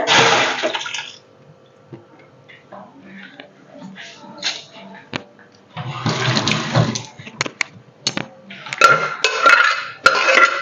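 Cooked cucumber curry poured from a pot into a frying pan in a home kitchen, giving loud, close liquid splashing and clattering in bursts, with quieter stretches and some speech between the pours.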